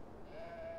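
Sheep bleating in the video game Beyond: Two Souls, a single sustained bleat rising out of a low ambient bed, fairly close and alone with no talk.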